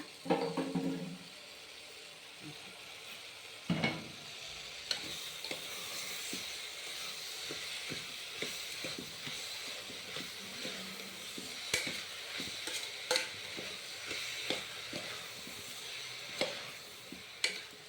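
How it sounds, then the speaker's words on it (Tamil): Carrots, beans and salt for biryani-style rice sauté in a pan, a soft continuous sizzle punctuated by scattered scraping clicks of a stirring spoon, fairly quiet, with no talk. "காய் நல்லா வதங்கிட்டோம்"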